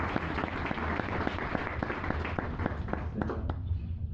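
A church congregation applauding the Lord after a call for baptism, dense sustained clapping from many hands, loud and close, with sharper individual claps standing out before it thins slightly near the end.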